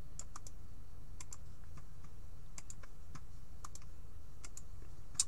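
Someone types names into a dice roller on a computer keyboard, with sparse, light key clicks in small irregular clusters over a quiet room hum.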